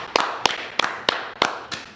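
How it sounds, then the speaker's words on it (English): A class claps in a steady rhythm: six sharp, evenly spaced claps about a third of a second apart, close and fairly loud, with no talking. "Hey, clap it up."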